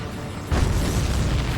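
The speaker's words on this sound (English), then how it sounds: "Did you see that explosion? Looks like that's one of them down." A boom as an enemy supply ship explodes in the aerial combat game Ace Combat 7: a sudden loud, broad blast that rumbles on steadily to the end.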